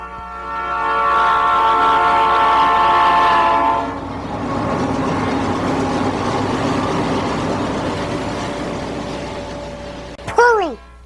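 A diesel-hauled train rolls past loudly with a steady rumble and clatter, sounding a long horn blast early on, then a short sharp squeal near the end.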